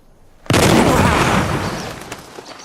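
One loud, booming gunshot from a big gun cracks out suddenly, then a long rolling echo fades away over about two seconds, with no voices.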